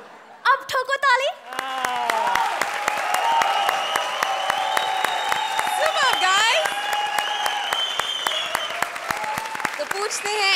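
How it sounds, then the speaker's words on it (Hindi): Sustained audience applause and clapping from a studio crowd at a televised stand-up comedy show, loud and continuous for about ten seconds, beginning after a brief burst of voices and cheering. "अब ठोको ताली।"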